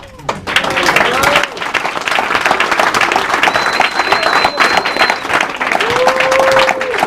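Wedding guests clap for the bride, a loud, dense burst of crowd applause filling the room from start to finish, with faint tonal sounds and scattered voices mixed in.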